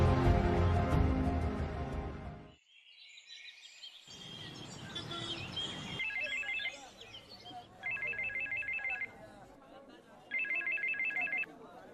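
A telephone ringtone in a Hindi drama scene chimes in three evenly spaced electronic bursts near the end, clear and moderately loud over softer background sound after an opening stretch of music and voices.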